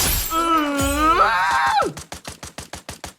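An explosion in the mobile battle royale game Free Fire, a sudden crash followed by a steady rhythmic series of sharp clicks or thuds, heard after an excited voice talking and exclaiming.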